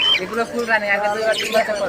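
Cockatiel squawks at a bird market, a few harsh rising calls close by, mixed with people talking in the background.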